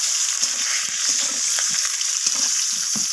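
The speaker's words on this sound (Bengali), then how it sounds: "তো বেগুনগুলোকেও আমি হালকা করে ভেজে নেব।" Sliced eggplant pieces frying lightly in hot oil, giving a steady, bright sizzle with soft crackles close by and no voices over it.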